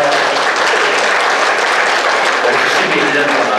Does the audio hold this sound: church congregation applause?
yes